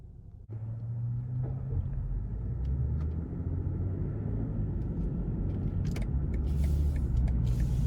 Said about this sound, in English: take this 840 out on the road for a test drive